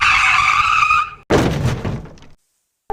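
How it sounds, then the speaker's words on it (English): A car brakes hard, its tires squealing in a loud screech that gives way to a rough skidding rumble and then silence. "he hit the brakes immediately"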